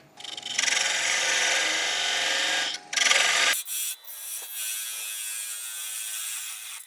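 Gidgee wood being parted off on a lathe gives a steady, loud scraping rasp for about three seconds, then a short burst after a pause, settling into a quieter, continuous hiss of the spinning workpiece.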